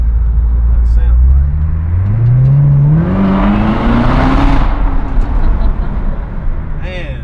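A Corvette C7 Z06 with a supercharged engine, set to track mode, revs up loud and close, its pitch climbing steadily for a few seconds before easing off, over constant engine rumble.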